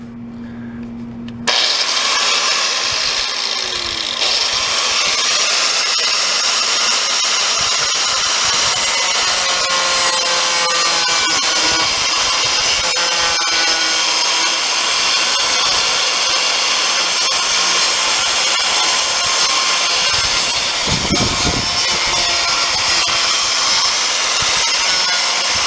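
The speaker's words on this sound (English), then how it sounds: "take an angle grinder and cut down as far as I can here" An angle grinder cuts through a divider inside an old box, a loud continuous harsh grinding roar close by that starts abruptly and runs steadily for over twenty seconds, with a brief lower rumble near the end and no talking.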